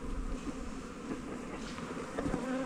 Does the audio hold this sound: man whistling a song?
no